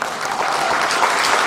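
An audience at a book launch event for a National Assembly member breaks into loud, dense applause and cheering that fills the whole brief moment.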